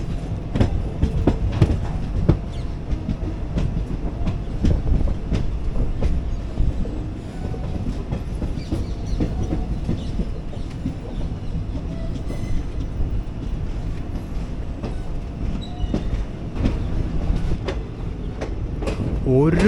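The 12677 Ernakulam Intercity Express slows into Karmelaram station, heard from aboard as a close, rhythmic clickety-clack of wheels over rail joints, with rumbling and clattering that eases as it brakes. Some voices mix in.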